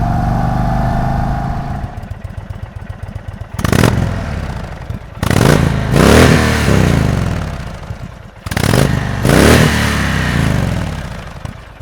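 An Indian Chief Bobber Dark Horse motorcycle engine revs loudly in several sharp throttle bursts, each climbing and falling away, separated by rough, lumpy idle with no talking.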